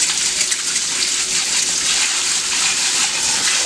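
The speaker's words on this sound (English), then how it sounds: "I just have the stream of water on high pressure, clean up anything that's left" A strong high-pressure stream of tap water rinses soaked hair tools and accessories, a steady broadband hiss running without a break throughout.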